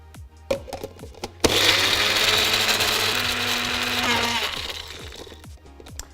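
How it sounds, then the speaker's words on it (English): A kitchen blender whirs loudly for about three seconds as it purees blackberries, a steady grinding roar that starts abruptly and cuts off, framed by quieter clicks and taps of preparation. "blackberries need to be pureed into my blender"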